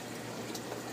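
Water draining from the top fish-tank barrel of a vertical apartment aquaponics system down into the growing towers, a steady soft trickling wash with no break, close and fairly quiet.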